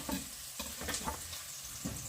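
Onion frying in a pan for an autumn eggplant salad, a steady soft sizzle with occasional stirring scrapes, close and moderately quiet with no talking.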